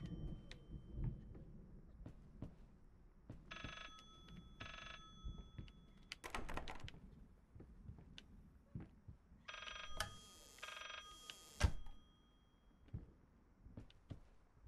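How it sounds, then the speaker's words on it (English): A book in the horror video game Layers of Fear rings like an old telephone, sounding in two bursts of bright bell trills over a dark, low ambient drone with scattered thumps. "Oh, the book is ringing."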